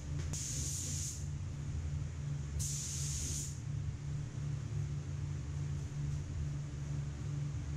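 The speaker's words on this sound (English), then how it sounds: "adjusting my gun to make sure I'm getting paint where I want it and not in places where I don't need it" A paint spray gun laying base coat inside the engine bay of an LS-swapped Honda Accord: two hissing bursts of about a second each, close and loud, over a steady low compressor-like rumble.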